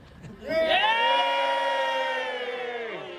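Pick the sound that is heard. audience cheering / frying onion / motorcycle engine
audience cheering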